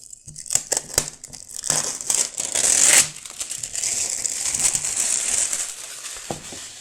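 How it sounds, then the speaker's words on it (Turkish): A box wrapped in cellophane for a smart home security device is opened, bringing loud crinkling and crumpling bursts of plastic film that swell into a long, dense rustle before it fades into softer handling noise. "Kutumuzu isterseniz bir açalım. Bu şekilde jelatinli bir şekilde gelmekte."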